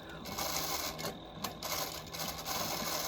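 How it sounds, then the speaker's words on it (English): Sewing machine back tacking a stitch on vinyl for an ID pocket, a steady close whirring run of rapid needle strokes with brief pauses as direction reverses, no voices. "Back tacking."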